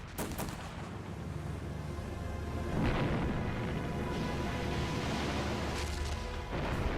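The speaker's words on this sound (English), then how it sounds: "German artillery and machine guns opened fire." German artillery and machine guns fire on landing craft during a World War II beach assault: dense, loud, continuous gunfire with repeated booms and crackling bursts, heard alone without talk.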